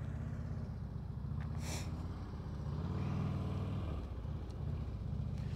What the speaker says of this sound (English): Jerry's blipping that throttle